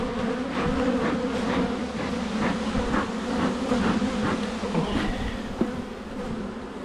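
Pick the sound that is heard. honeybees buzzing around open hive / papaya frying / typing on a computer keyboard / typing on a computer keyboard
honeybees buzzing around open hive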